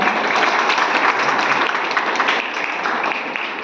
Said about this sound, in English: Let's have a huge round of applause for them.